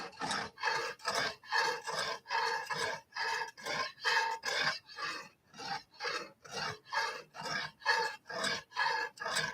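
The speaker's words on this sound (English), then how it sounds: "watching me sharpen knives" A knife is sharpened on a Lansky sharpener in a garage: about eighteen close, evenly paced rasping strokes of the hone across the steel blade, steady and unaccompanied by speech.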